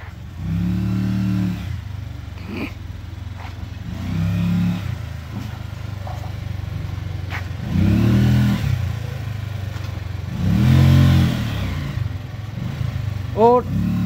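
A rickshaw engine rumbles and revs in uneven bursts while reversing to unload sand on a building site, the motor swelling and easing repeatedly at close range.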